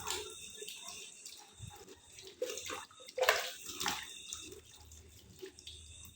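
Running water from a tap splashes steadily over hands and arms during handwashing, close and continuous, with brief louder splashes as the arms move under the stream.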